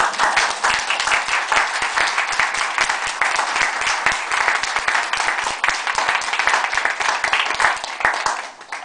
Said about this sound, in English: I would like to call for you a tremendous applause in solidarity and welcome for Cynthia